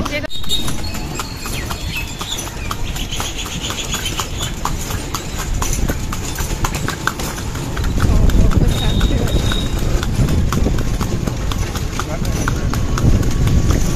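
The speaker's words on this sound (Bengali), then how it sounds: "ঘোড়ার গাড়িতে ভালোই লাগছে বলদি, টোটোর থেকে।" Hooves clip-clop steadily as a horse-drawn carriage rolls along streets near the Imambara in Murshidabad, a continuous rhythmic patter heard throughout, with people chatting over it.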